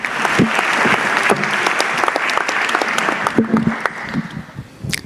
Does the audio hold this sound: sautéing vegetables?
no